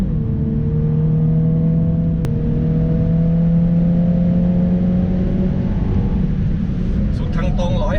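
The 306-horsepower engine of a MINI Countryman JCW hums steadily and climbs in pitch as it accelerates, with road roar underneath and a voice faintly at the end.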